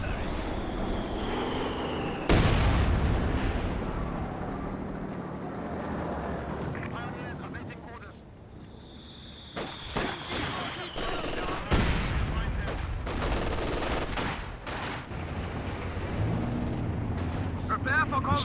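Artillery barrage in the real-time strategy game Company of Heroes 2 during a 2v2 battle, heavy booming shell impacts and explosions with scattered gunfire, recurring throughout under a commentator's steady talk.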